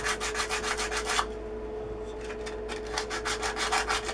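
Short abrasive strokes clean a burr from the motor V-pulley of an Atlas 74 pillar drill, a rapid back-and-forth rasping that pauses briefly midway, then resumes over a steady low hum.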